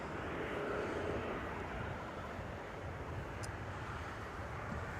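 A Jetstar airliner departs Melbourne Airport in the evening, heard from a distance as a low, steady jet engine roar mixed with wind rumble, fairly faint and unbroken throughout.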